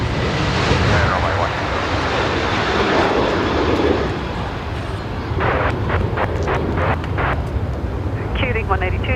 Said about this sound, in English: The Jetstar 320 Classic there going in on 16 left